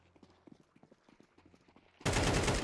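Footsteps in a Valorant esports match patter quickly and rhythmically at moderate volume, then a sudden loud burst of gunfire cuts in at the end.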